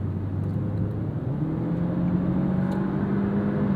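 A 2022 Genesis G70 2.0T drives along, heard from inside the cabin as a steady engine drone with road rumble, its pitch slowly rising and shifting as the transmission makes a rough gear change.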